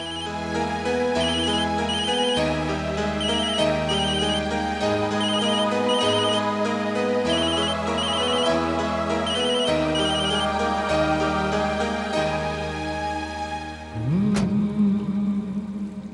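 A phone ringtone for an incoming call plays a repeating electronic melody for about fourteen seconds, loud and close, then cuts off abruptly with a short burst of noise at the end.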